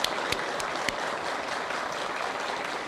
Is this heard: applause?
yes